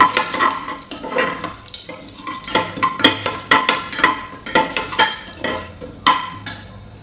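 Whole cardamom, a piece of cinnamon, cloves and half a bay leaf heat in a pan for egg manthi, with frequent scraping and clinking of a utensil against the pan over a light sizzle, no talk.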